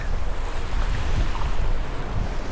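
Waves wash against a rocky seashore in a steady, close roar of surf, with wind buffeting the microphone throughout and no voices.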